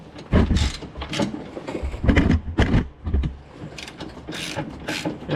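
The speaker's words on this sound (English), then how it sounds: "grab an 18mm wrench and grab your ratchet" A ratchet tightens a rear toe arm bolt on a 2017 Mustang GT, giving a close run of quick clicking strokes in irregular bursts.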